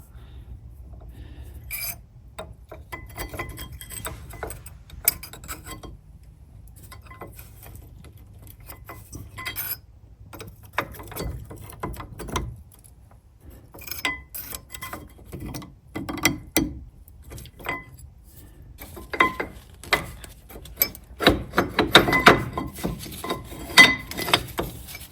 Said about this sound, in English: now I'm going to use a screwdriver to push the pistons back into the caliper